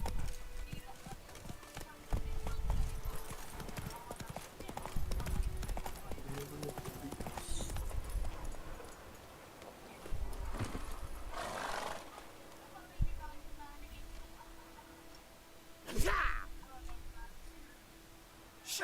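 Roach the horse gallops in The Witcher 3 with close, loud hoofbeats and snorts, and a whinny breaks out near the end. Gallops come in uneven bursts between quieter stretches, and someone talks over parts of it.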